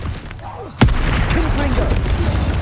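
A single loud spell blast booms out in Hogwarts Legacy, a sharp impact followed by sustained rumbling game noise, with a voice talking over it.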